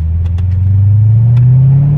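A custom 2009 Chevrolet Corvette C6 V8 rumbles loud and close with a deep, steady exhaust drone that slowly rises in pitch, while a few brief faint clicks sound over it.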